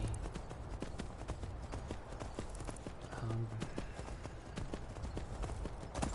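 Horse hooves clip-clop in Skyrim gameplay, a steady trotting rhythm of close, crisp hoof strikes over a constant ambient game background, with no talking.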